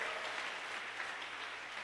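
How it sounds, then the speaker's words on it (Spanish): A church congregation claps for the Lord, a dense, even wash of many hands heard from a distance and fairly faint, continuing steadily throughout without any voices over it. "Démosle palmas al Señor"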